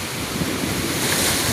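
Ocean surf rolls and washes continuously, a broad steady roar mixed with wind buffeting the microphone.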